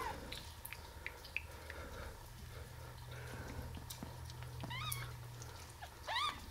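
Baby kittens about eleven days old give several thin, high mews, clustered near the end, close by over a soft background hum.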